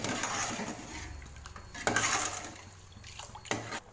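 Water for mutton biryani bubbles and simmers in a pot over high flame, with a few light clinks and scrapes of a utensil against metal.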